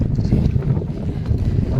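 Strong wind buffets the microphone while cycling on an open road near Dholavira in Gujarat, a continuous low rumbling roar that stays loud and close for the whole stretch.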